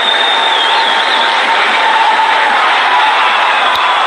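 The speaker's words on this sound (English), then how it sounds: "And the crowd absolutely elated." A cricket crowd at an India vs Sri Lanka match in 1993 cheers loudly in one continuous, dense roar that stays steady from start to finish.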